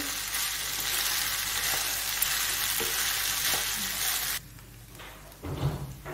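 Vegetable fried rice being stirred in a hot pan, a steady loud sizzle with scraping for several seconds, then the sizzle drops away abruptly, followed by a brief low clatter near the end.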